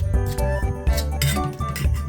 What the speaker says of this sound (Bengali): এবার এই দুধটাকে ভালো করে মিক্স করে নেব।